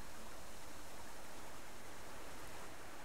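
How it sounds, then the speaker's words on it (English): Steady rushing water in a video game flowing continuously, a broad even wash of sound like a stream or small waterfall, with no voices. "It's very difficult with the water sound."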